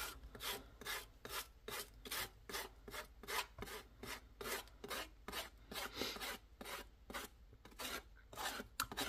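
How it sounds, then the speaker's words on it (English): A hand scraping tool rasps across an MDF craft tag in steady, rhythmic back-and-forth strokes, roughly two per second, close and fairly quiet. No one speaks. "I'm doing that with this scraping tool, but you can also use sandpaper"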